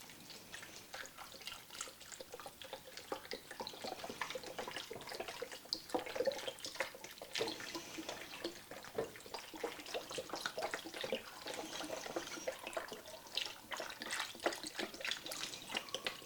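Chicken broth poured into a soup pot of tomatoes, a steady liquid splashing and trickling that runs continuously at moderate loudness for about sixteen seconds, with no talk.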